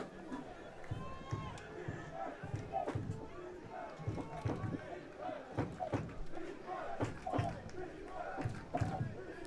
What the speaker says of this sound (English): Another defense chant coming from the crowd in the stands.